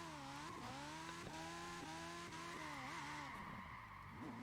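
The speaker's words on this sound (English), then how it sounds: "it doesn't have much trouble reverse drifting" A Ferrari F40 reverse drifting in Forza Horizon 4, its engine droning in steady rising and falling harmonics with a faint tyre scrub underneath, continuous and close, with no talking.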